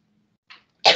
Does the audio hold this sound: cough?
yes